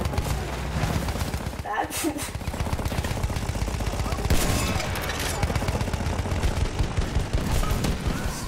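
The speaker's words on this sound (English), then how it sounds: "Bring out this little anti-tank gun." A small anti-tank gun fires in Battlefield 1 amid dense, continuous battle noise of gunfire and explosions, with a voice speaking briefly over the din.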